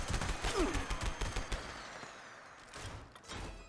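Rapid bursts of weapon gunfire in the video game Fallout 76, a dense volley of sharp shots for about a second and a half, then quieter scattered bangs trailing off.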